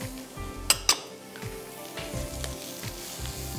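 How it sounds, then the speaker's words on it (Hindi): Tofu and vegetables sizzle and crackle steadily as they are stir-fried in a pan, with two sharp metallic clinks of a utensil against the cookware early on and softer scraping stirs throughout; no talking. "आप अच्छी तरह स्टर फ्राई करिए"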